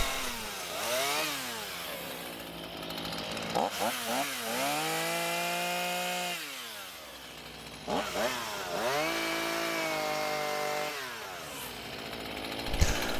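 A chainsaw carves a wooden sculpture, its engine revving up and down in long sustained cuts with brief pauses between passes, loud and close, alone without speech.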